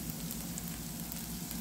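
Pasta locrio with chopped cilantro sizzles steadily in a pan as it is stirred, a continuous close frying hiss with no voices.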